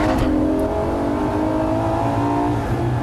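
A 2014 Ferrari LaFerrari engine revs hard under throttle, a loud, sustained, rising roar that stays close and continuous throughout.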